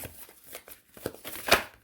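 Tarot cards being shuffled by hand, a series of soft riffling brushes and taps ending in a brighter flurry, close and fairly quiet with no talk.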